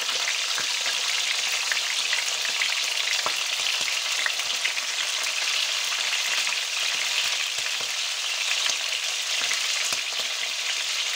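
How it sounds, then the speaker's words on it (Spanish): Rabbit meat sears in hot oil in a casserole for a basic almond rabbit stew, giving a steady, loud, close sizzle with scattered crackles and pops throughout. "Sellamos la carne. No la echéis toda junta, porque se enfría el aceite."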